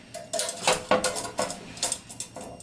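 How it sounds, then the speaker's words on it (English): Small ceramic ramekin dishes being handled and set down in a kitchen, a close series of light clinks and knocks at irregular intervals, with no talking. "So now we can remove the rameki dishes"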